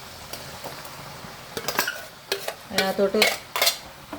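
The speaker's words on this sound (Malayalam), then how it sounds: "അപ്പോൾ അതിനകത്തോട്ട് ഇനി നമ്മൾ ഈ അരച്ച് വെച്ച അരപ്പ് ഒന്ന് ഒഴിച്ച് നോക്കാം" Ground coconut paste poured into a pot of cooked avial vegetables, with clinks of a spoon against the pot and soft wet stirring and scraping sounds building toward the end, close and moderately loud.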